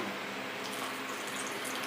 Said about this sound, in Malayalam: അപ്പൊ ഇനി ഇതിലേക്ക് നമുക്ക് വെള്ളം ചേർത്ത് കൊടുക്കാം